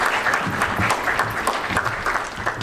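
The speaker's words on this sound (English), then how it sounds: "So give them a round of applause," A conference audience at a world affairs institute event applauds steadily, a dense, even wash of clapping hands held at the same loudness throughout, with no talking over it.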